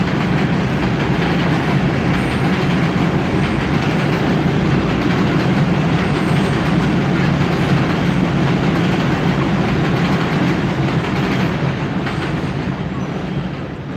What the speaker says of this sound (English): hold on, the train is coming by, hold on.